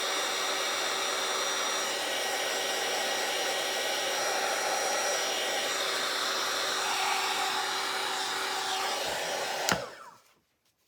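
A hair dryer drying paint on a doodle art background blows with a steady, close whooshing hum for about ten seconds, then clicks off and quickly falls silent, with no talking.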